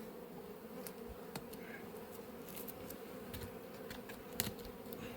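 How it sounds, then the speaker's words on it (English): Wasps buzz faintly around a beehive in an apiary, a steady low hum with occasional brief nearer fly-bys and small clicks, no talking. "Let's see if we can get this wasp."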